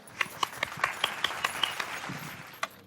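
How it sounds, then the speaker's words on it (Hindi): Scattered handclaps from a small group during a staged announcement in a drama scene: about ten sharp, separate claps in a loose rhythm, moderately close, with faint background murmur. "तालियां।"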